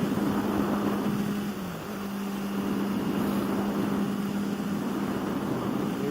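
Honda CB650FA motorcycle ridden at about 6,000 rpm and roughly 80 mph, giving a steady, close engine drone with a brief dip in pitch partway through, heard over constant wind rush with no talking.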